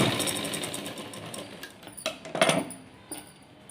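A sewing machine runs steadily while stitching a blouse, its motor whirring close and continuous, then breaking into a few sharper clatters and knocks as the fabric is handled near the end.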